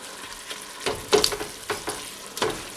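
Wine poured into a pan of simmering homemade meat sauce for pasta, a hissing sizzle that flares in several bursts, close and moderately loud, with no voices.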